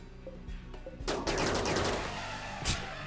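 Rapid bursts of charge rifle fire in RimWorld, set against elephants in the rain, start abruptly after a quiet second and rattle on densely and loudly with a sharper crack near the end.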